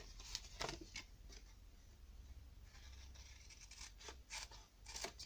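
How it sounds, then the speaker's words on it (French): Scissors snip through cardboard with scattered crisp cuts and rustling, the blades closing sharply several times at close range and fairly quiet, with no one talking. "on va donc découper ici en premier."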